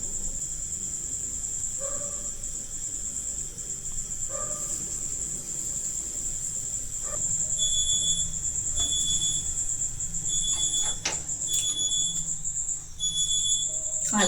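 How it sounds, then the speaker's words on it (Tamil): A ten-minute kitchen cooking timer rings in a home as repeated short high electronic beeps, moderately loud, over steady background hum, and people talk faintly. "அலாரம் அடிக்குது. நான் அலாரம் வச்சுருந்தேன் 10 நிமிஷத்துக்கு."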